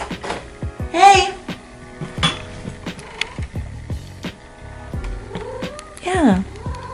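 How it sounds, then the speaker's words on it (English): A cat meows loudly a few times close by, trying to get in at a door, mixed with scuffling and background noise, the cries rising and falling. "my cat's trying to get in"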